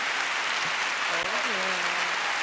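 Applause during a podcast recording, a continuous wash of clapping with a voice speaking briefly over it partway through.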